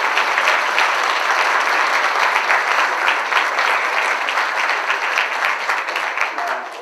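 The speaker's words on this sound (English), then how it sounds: "let's give her a round of applause" Loud, dense applause for the 2016 Outstanding University Honors Program graduate at a spring honors event fills the room steadily from start to finish, with no break.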